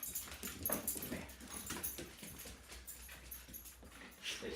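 Dog whimpering and whining in short, uneven bursts amid handling noise and rustle, fairly close but not loud, with no speech over it.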